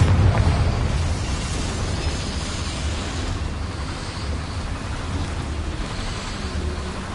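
A Confringo blasting spell from Hogwarts Legacy goes off as a loud, dense explosive rumble that tails into a sustained roaring wash, steady and close.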